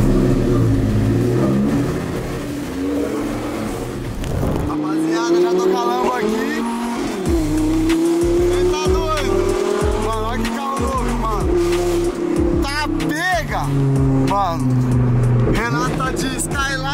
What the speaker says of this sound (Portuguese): Dar ré aqui na Lambo.